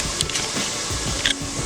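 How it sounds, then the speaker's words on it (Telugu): A mixer grinder grinds fried coriander seeds, giving a steady, close, harsh whirring roar that holds at an even level throughout, with a few brief rattling clicks. "మనం ఫ్రై చేసుకున్న ధనియాలు ఇప్పుడు మిక్సీ చేసుకుంటాం."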